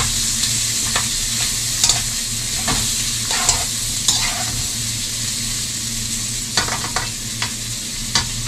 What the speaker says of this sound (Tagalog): prituhan natin ng sibuyas tong kawali natin na may konting mantika